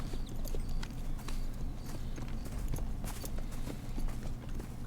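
Horse hooves clip-clopping in a video game with a runaway-horse chase, a steady, fairly faint trot of repeated clops over a low rumbling ambient bed, no talk.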